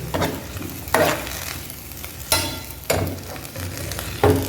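Mint leaves sautéing for chutney in a hot pan, a steady soft sizzle punctuated by several sharp scrapes and clanks of a spatula stirring at irregular intervals, close and alone without talk.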